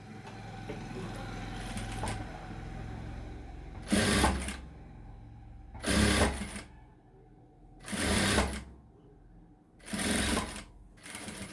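A sewing machine stitches rope hangings onto a blouse: a low mechanical whir gives way to four loud, evenly spaced bursts of rapid stitching, each about a second long, with quiet pauses between.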